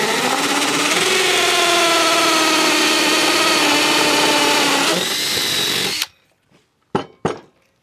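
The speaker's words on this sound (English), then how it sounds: "And get your holes drilled in the wood." A power drill bores holes into wood while building a carpenter bee trap, a loud steady whine for about six seconds, then it stops and a few short knocks and handling clatters follow.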